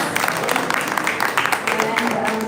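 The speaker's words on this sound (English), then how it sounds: "I think they do deserve a round of applause." An audience at a panel discussion on financing applauds the panelists, a dense, steady round of clapping from many hands at moderate distance.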